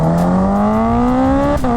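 Kawasaki Ninja H2 supercharged motorcycle engine revving close up, a loud steady climbing whine with a fluttering edge that rises in pitch, then a quick chirp near the end as the revs dip.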